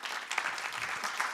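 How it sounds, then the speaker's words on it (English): A conference room audience at an African clean energy and COP27 event applauding, a dense, even patter of many hands clapping throughout. "the room is applauding you"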